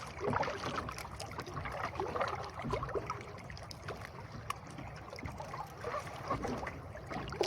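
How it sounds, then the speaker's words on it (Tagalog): A strong river current flows past a fishing boat, a close, uneven wash of rushing and gurgling water with occasional knocks and splashes, fairly quiet overall. "Sobrang lakas ng agos."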